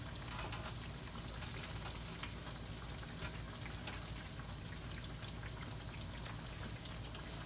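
Double-breaded green tomato slices fry in hot oil over a hot fire, making a faint, steady crackle and bubbling that continues throughout.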